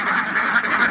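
Ducks on a farm quacking together in a brief, continuous, close chorus.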